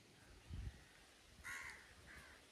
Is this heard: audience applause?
no